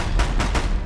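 Deathbringer machines firing in Horizon Zero Dawn, three sharp, loud shots in quick succession over a low rumbling background.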